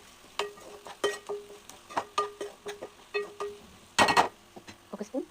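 Golden onions with turmeric and cumin seeds are stirred in a hot pan. A soft sizzle runs under a rhythmic series of scrapes and taps from the spoon, with a louder clattering flurry partway through.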